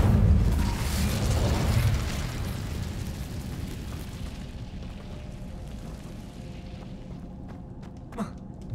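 Incendio fire spell cast in Hogwarts Legacy, a loud deep whooshing burst of flame that rumbles heavily at first, then slowly fades, with a small pop near the end.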